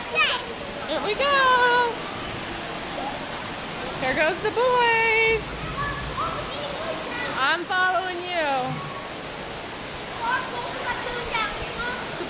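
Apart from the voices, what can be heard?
water rushing down an indoor water park slide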